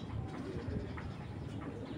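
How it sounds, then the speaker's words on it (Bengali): A female dobaj pigeon, full-size and big-headed, coos softly and steadily at close range, with low murmuring calls repeating through a faint background hum and no talking. "দেখেন কবুতরটা ফুল দোবাস"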